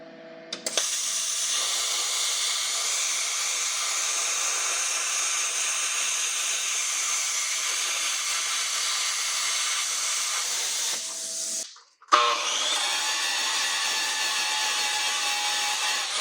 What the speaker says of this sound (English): after a bunch of cutting and grinding